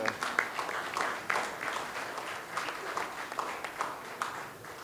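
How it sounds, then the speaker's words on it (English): Light, scattered applause at a boxing press conference, fairly faint and uneven with distinct claps standing out. "we can give Doug a round of applause"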